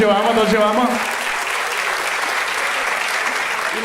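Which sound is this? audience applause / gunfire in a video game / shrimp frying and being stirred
audience applause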